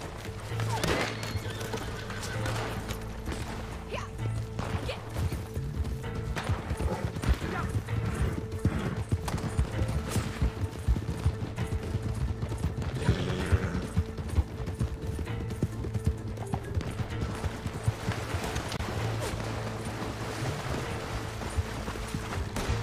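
Horses run in the Red Dead Online video game, a steady clip-clop of hooves rolling on throughout over a constant low ambient hum, with an occasional whinny and no talking.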